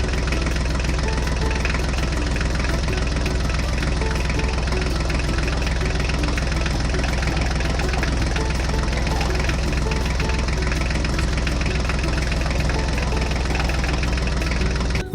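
A Mahindra tractor engine runs steadily, loud and close, with a continuous low rumble and a faint knocking throb that holds without a break for the whole stretch.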